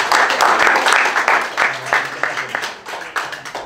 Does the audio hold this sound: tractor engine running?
no